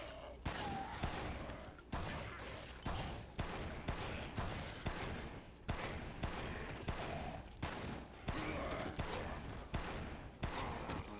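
Rapid gunfire in the Dead Rising video game, Infinity Mode, with bursts of sharp shots repeating in a steady rhythm, loud and close throughout.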